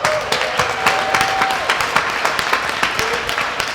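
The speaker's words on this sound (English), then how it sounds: "Let's get a round of applause." Audience applause at a Los Angeles Asian Hustle Network networking evening, steady dense clapping from a crowd with a faint sustained tone and scattered voices underneath.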